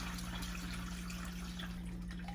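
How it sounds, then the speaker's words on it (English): Homemade vegetable stock poured out of an Instant Pot liner into a colander, giving a steady, close wash of splashing and trickling liquid with a constant low hum underneath and no talking. "I'm going to turn this so it pours into the colander"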